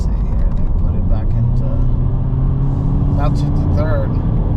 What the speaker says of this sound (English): The car it will do rev matching once you downshift with the simulated gears that the car has.